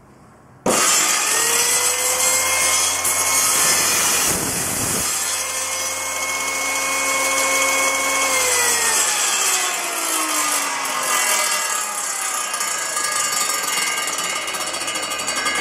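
A table saw with a crosscut sled starts up and cuts through a scrap board, a loud close motor whine with a brief rough bite of the blade in the wood, then a long winding-down hum with falling pitch.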